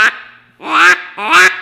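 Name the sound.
Haydel's DR85 duck call blown, mallard quack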